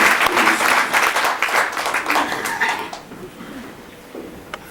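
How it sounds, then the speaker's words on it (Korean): Enthusiastic applause from a congregation at a 2003 prayer meeting held at a hotel, loud and crackling at first, then gradually thinning out and fading over the last couple of seconds. "우리는 더 크게 박수 한번 치시고 그 행사를 마치겠습니다."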